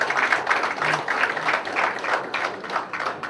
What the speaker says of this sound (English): So let's give a big round of applause for this guy.